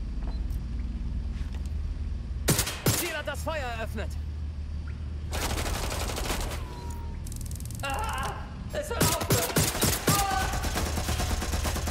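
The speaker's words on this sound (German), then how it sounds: "Vorsicht, Schüsse!" Bursts of gunfire in the video game Watch Dogs: Legion, sharp loud volleys and rapid automatic shots in several clusters, mixed with game sound effects and some talking between them.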